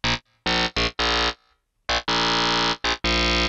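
FM synth patch built from a single oscillator, playing a series of short, punchy harmonic-rich stabs with brief gaps, loud and close, with a slightly unstable, gritty texture and no voices.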